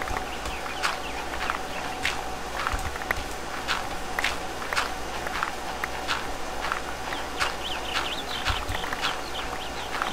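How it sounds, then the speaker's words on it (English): Birds chirp in short, repeated bursts throughout, over a steady low background hum, in the video game Minecraft with the Mo' Creatures mod. "I hear the birds chirping."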